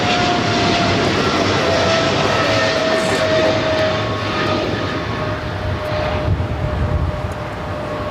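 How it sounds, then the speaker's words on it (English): A Polar Air Cargo Boeing 777 freighter jet roars steadily at LAX, a loud, continuous engine rumble with a thin whine running through it and no talk over it. "this Polar Air Cargo Flight 962 heading to Cincinnati, a 777 freighter"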